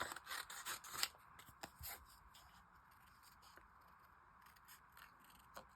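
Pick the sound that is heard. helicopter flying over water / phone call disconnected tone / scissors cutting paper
scissors cutting paper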